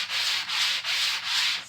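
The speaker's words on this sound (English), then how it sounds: "sanded it with this medium sanding block just to get some of the imperfections out." A medium sanding block is rubbed over soft pine, four even back-and-forth strokes of close, loud, hissing abrasion with brief gaps between them.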